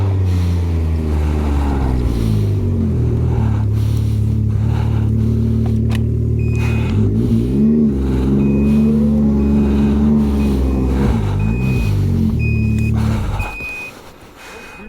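A 4-stroke snowmobile engine runs loud and close, its steady drone rising and falling in pitch with throttle changes, then dropping away sharply near the end; a high beeping tone chirps intermittently over it.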